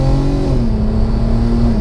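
A VW Golf R32 Mk5 engine revs up through the gears, a loud, close droning note that dips briefly at a shift and then holds steady.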